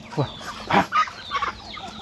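Several chickens cluck in short bursts nearby, a few sharp calls standing out against a quiet background.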